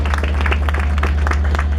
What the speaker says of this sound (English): I just want to give a round of applause to Hector